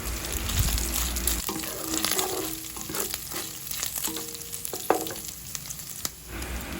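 Ground pork sautés in a frying pan, a soft, steady sizzle punctuated by occasional spatula taps and scrapes.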